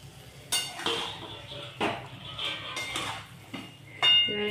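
A metal lid set onto a pot of cooking chicken and potatoes, several sharp clanks and clinks near and fairly loud, spaced irregularly, ending with a heavier knock.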